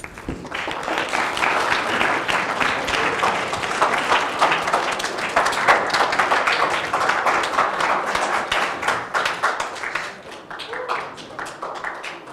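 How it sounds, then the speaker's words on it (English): Audience applause at a live lecture by a Yale professor, a sustained crowd of many hands clapping for about ten seconds before tapering off, with a few voices faintly underneath. "What are you clapping for?"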